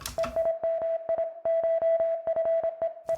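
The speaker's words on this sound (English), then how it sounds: "Then, of course, got the little Morse code blips, which is just a 3x OSC sound." Synthesized Morse code blips made with a 3x OSC synth in a 90s jungle-inspired track: one steady mid-pitched tone keyed into quick, uneven short and long beeps, loud and close, with no talking.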